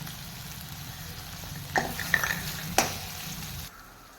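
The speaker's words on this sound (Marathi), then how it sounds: "इथे मी एक छोटा टॉमॅटो घेतला आहे तो देखील आपण तेलावर व्यवस्थित परतून घेऊया" A small tomato sautéing in oil in a pan, a soft continuous sizzle with a couple of sharp utensil clinks against the pan near the end before it cuts off, close and unaccompanied by voices.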